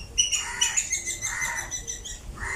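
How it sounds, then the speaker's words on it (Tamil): A sparrow chirps in quick, repeated high tweets, fairly close and clear against a quiet background, with no talking. "ஏதோ குருவி ஒன்று காத்தது, கிச்சு கிச்சு கிச்சு கிச்சாண்டு கேட்குதா?"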